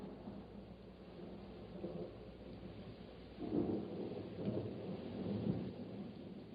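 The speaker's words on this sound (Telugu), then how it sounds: "మన ముందు తుఫానుంది చూడు." Rain falls steadily through a thunderstorm while low rumbling thunder rolls beneath it, growing louder and heavier partway through and then carrying on as a dull continuous roar.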